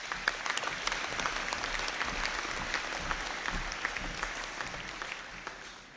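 Audience applause at a graduation conferring ceremony, a steady wash of many hands clapping, moderately distant and sustained before fading slightly at the end.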